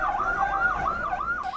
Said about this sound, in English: An ambulance rushes the wounded to hospital in a town near Quetta.